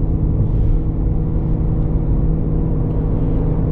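A Shelby GT350R running E85 at full throttle, a loud, sustained, gravelly engine roar with dense low rumble, close and steady throughout.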